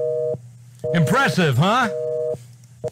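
Telephone busy signal during a phone call, a steady repeating tone that drops out briefly while a voice speaks over it, then returns.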